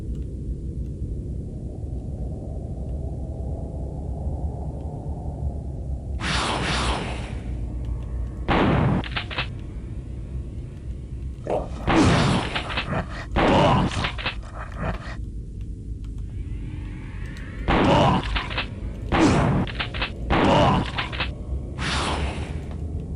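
Shotgun blasts from the 3DO first-person shooter Killing Time, a series of loud, sharp booms in irregular clusters, some close together and others spaced apart, over a steady low background hum.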